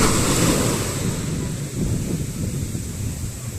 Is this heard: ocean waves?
yes